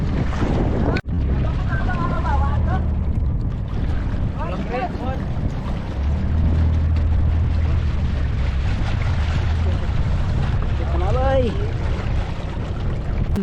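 A boat running very slowly on its one working engine, the other broken, drones low and steady beneath heavy wind buffeting, with people talking and calling out over the continuous rumble.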